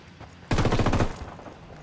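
A single rapid burst of automatic gunfire, warning shots fired in the video game Ghost Recon, loud and close for about half a second before fading into quieter background sound.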